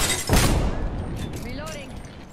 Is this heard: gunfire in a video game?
yes